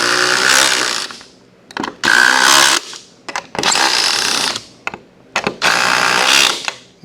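A DeWalt power tool drives fasteners into casters on a rolling cart built for a Kubota BH92 backhoe, sounding as four or five loud, close whirring bursts separated by short pauses and small clicks.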